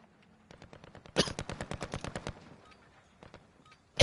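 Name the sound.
AK rifle gunfire in Warzone video game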